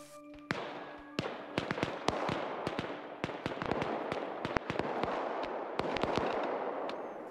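Grenade launcher explosions in a video game, heard as a long string of sharp, cracking bangs at irregular intervals over a steady rumbling battle backdrop.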